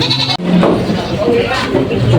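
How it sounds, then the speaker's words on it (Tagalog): Goats bleating at a livestock auction market in Lucena, several loud nasal cries from nearby animals overlapping with people talking in the crowded setting. "Yan yung mga kambing nila"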